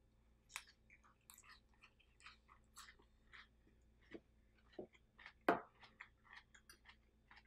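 Someone chews a raw cabbage salad dressed with sesame oil, giving soft, irregular crunches and wet bites close to the microphone with quiet gaps between them.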